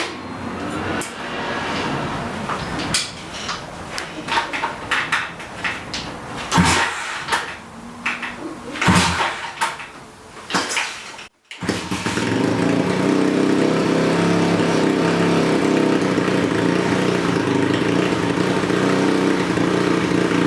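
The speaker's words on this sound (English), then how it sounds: "Let's see if I can kickstart this thing dead cold with the new Kickstart lever and Crocs." A cold 212cc small engine is kickstarted: several sharp mechanical clunks and pulls give way to a steady, loud idling drone that runs continuously to the end.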